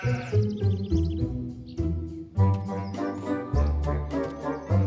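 Several wavering sheep bleats in quick succession, fairly loud and close, with no talking.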